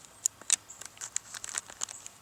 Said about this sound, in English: Take the scissors and cut off